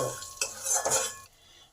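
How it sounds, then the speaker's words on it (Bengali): Asafoetida, nigella seeds and green chili frying in a pan while stirred with a utensil, giving a couple of close scraping strokes over a light sizzle before it quiets. "এই হিং কালো জিরে আর কাঁচা লঙ্কাটাকে কয়েক সেকেন্ড ভেজে নেব"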